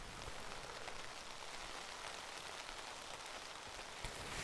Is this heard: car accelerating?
no